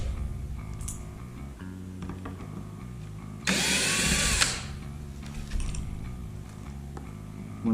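A power drill backing screws out of a Glarry bass guitar, one loud whirring burst of about a second amid quieter handling clicks and knocks.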